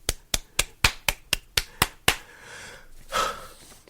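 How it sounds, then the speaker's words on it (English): A single pair of hands claps about nine times at an even, moderate pace, crisp and close, followed by a short breathy rustle as the clapping stops. "Let's give him a round of applause, please."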